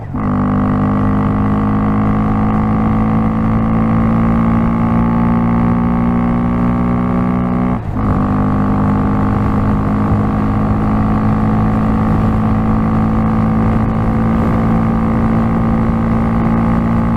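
A tuned Honda Grom motorcycle drones loudly at steady high speed, engine note holding a sustained whine with a brief dip around the middle before pulling on again, close and continuous with wind rush beneath.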